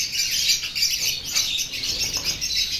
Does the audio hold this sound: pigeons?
yes